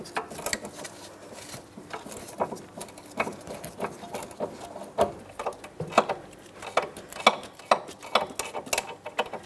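A 15mm ratcheting wrench works the sway bar link nut on a 2003-2007 Cadillac CTS front suspension, giving a run of quick, light metallic clicks in an irregular rhythm, close up and fairly quiet.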